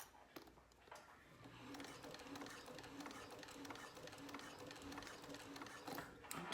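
A sewing machine top-stitching with light gray thread runs in a quiet, steady, fast stitching rhythm with faint clicks at the start and end.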